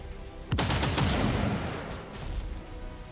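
A sharp, loud gunshot blast in XCOM 2, followed by a rattling burst of automatic fire and a rumbling echo that trails away.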